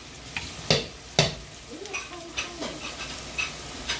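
Tomato paste frying in a pan, stirred with a utensil: a soft, close sizzle under a series of brief scraping stirs at a relaxed, uneven rhythm.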